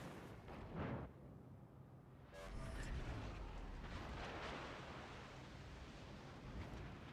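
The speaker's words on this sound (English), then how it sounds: "Nagato shooting HE." Heavy naval gunfire from the battleship Nagato firing high-explosive shells in World of Warships: Legends, a booming blast followed by a long rumbling roar and distant thunder-like echoes, with no talk.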